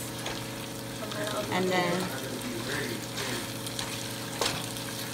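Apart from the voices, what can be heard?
sauteing ground pork with tomato in a pan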